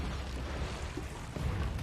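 A deep, rumbling explosion in Resident Evil 7, with a continuous low roar filling the stretch and a fresh heavy surge of debris-like rumble near the end.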